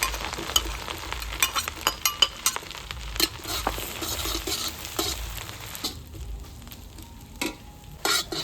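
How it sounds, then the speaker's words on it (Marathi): Onion with ginger garlic paste and cumin frying in oil over a village wood fire, a continuous sizzle broken by frequent sharp scrapes and knocks of a spoon stirring in the pan, close by and with no talking. "आलं लसूणची पेस्ट कांदा उडवलेला होता तो टाकून घेऊ"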